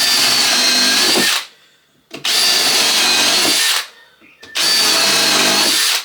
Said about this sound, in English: We're just going to screw it down.